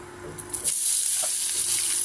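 Onions and torn dried chillies fry in hot oil in a home kitchen, giving a steady bright sizzle and hiss with a faint stir or clink partway through and no talking.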